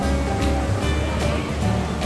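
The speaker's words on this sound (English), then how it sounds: "Oh, there's a waterfall here." A waterfall inside a dark indoor theme park ride gives a steady, loud rush of falling water that continues without a break through the whole moment. No one speaks over it.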